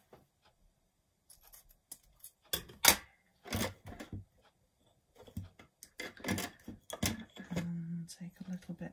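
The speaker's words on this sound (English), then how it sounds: "let's cut a little bit of the excess away" Scissors snip away excess ribbon on a handmade Christmas candle, a few short crisp cuts spread out with pauses between them, close up and fairly quiet.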